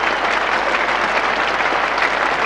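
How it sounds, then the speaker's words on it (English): A large cricket-ground crowd claps steadily as a dismissed batsman walks off in a 1983 England versus New Zealand Test at Nottingham, a dense, even wash of applause from many hands throughout. "they intend to stand there and clap and cheer until he disappears from view into the dressing room"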